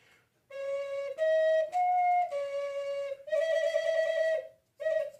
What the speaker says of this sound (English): Whistles are great fun.